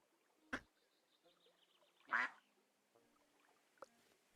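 A cartoon duck quacks in the cozy building game Tiny Glade: a couple of short, nasal quacks spaced a second or two apart, faint over quiet ambient game sound.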